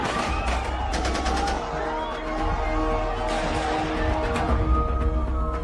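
Rapid bursts of gunfire from a film's terror attack scene at Mumbai's Chhatrapati Shivaji Terminus railway station, sharp repeated cracks over a busy, chaotic background din.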